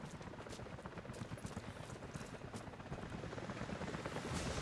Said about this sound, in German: Jacob, Helikopter sind unterwegs zu Ihnen.